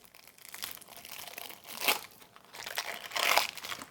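Packet of Masters of the Universe: Fields of Eternia board game cards being handled, with two louder bursts of crinkling plastic wrapping between quieter rustles, close and alone.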